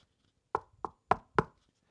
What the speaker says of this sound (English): Then, on the step, Mouse heard something knocking.